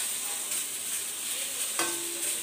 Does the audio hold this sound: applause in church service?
no